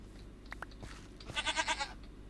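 A Minecraft goat bleats in a loud, wavering run of pulses near the end, preceded by a few brief game clicks and blocks breaking, with no talking.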